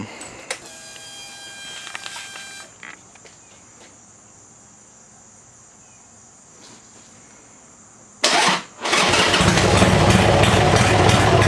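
A crashed and repaired motorcycle fires up at about eight seconds after quiet ticking and insect-like chirps, gives a brief stutter, then settles into a loud steady running roar close to the microphone.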